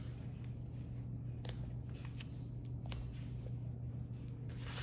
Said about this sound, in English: you'll just tape like 4 small pieces and tape down the corners